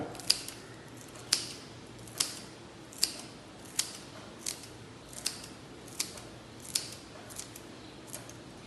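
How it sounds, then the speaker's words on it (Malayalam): Curry leaves are chopped fine for a crispy bitter gourd fry, giving about ten evenly spaced crisp snips or cuts close by, with no other sound. "കറിവേപ്പില നമുക്കൊന്ന് പൊടിയായിട്ട് അരിഞ്ഞ് ചേർത്ത് കൊടുക്കാം"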